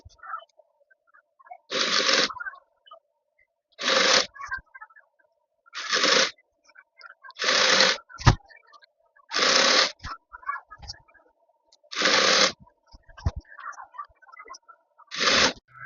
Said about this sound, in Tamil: ப்ளேஸ் பண்ணிவிட்டு இப்படியே ஸ்டிச் பண்ணிக்கோங்க.